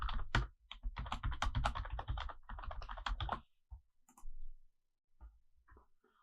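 Computer keyboard being typed on while entering host details, a quick run of close, crisp key clicks in a dense burst, then a few scattered taps after a pause.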